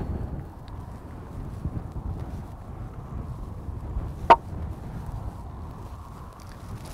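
A horse's hooves clip-clop steadily over a raised training pole, with one sharp, loud knock near the end, likely a hoof striking the pole.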